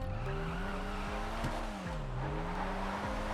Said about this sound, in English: The Futo GTX is extremely agile, it's lightweight, and it's very easy to drift.